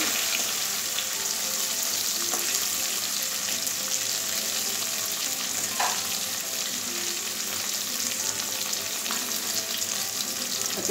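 Taro fries in a pan with turmeric, a strong, even sizzle crackling without pause for the whole stretch, with a couple of faint clicks of a utensil and no voices.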